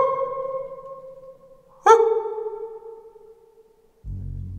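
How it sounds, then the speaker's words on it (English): Echo inside an abandoned Yugoslav bunker in Slovenia: a sharp ringing impact sounds once and then reverberates, its tone fading slowly down the long concrete space, followed by a dull low thump near the end. "you can tell how far this thing's going because listen to the echo"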